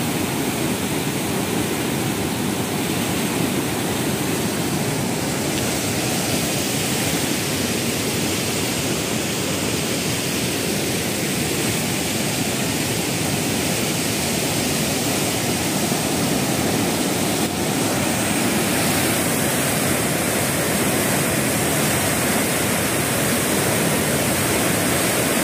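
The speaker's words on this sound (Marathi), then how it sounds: "प्रचंड वेग आहे पाण्याला।" Floodwaters of the swollen Godavari river rush over rocks in Nashik district, a loud, steady roar of turbulent water that continues unbroken from start to finish with no voices.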